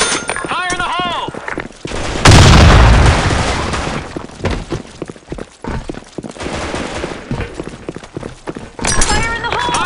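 A grenade explosion in the game Black Shot, one loud booming blast with a rumbling tail amid bursts of gunfire, with voices calling out before and after.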